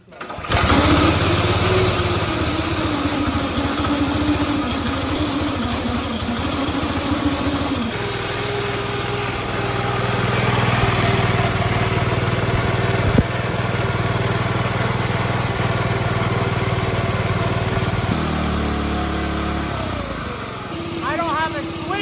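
A small go-kart engine that has just been started runs loud and close with a buzzy drone, shifting in pitch as it idles and revs, while people talk over it.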